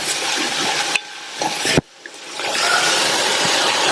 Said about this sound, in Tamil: கட் பண்ணி வச்ச சௌசௌ சேர்க்கிறேன். இந்த காய் 2 நிமிஷம் போல வதங்கட்டும்